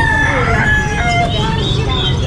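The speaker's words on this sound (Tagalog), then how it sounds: "Mga native na manok." A native chicken rooster crows at an open-air animal market, its call rising over steady crowd murmur and nearby vehicle noise.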